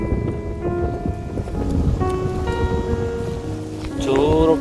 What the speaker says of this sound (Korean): 바람 엄청 붑니다.